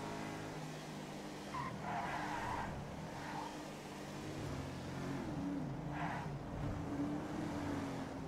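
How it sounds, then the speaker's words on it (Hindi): A Rolls-Royce engine drones and pulls in GTA 5, a steady moderate rumble with tire skids and squeals rising in short bursts, and no talk over it. "Oh my God, roles roles का पूरा इंजन खींच रहा है।"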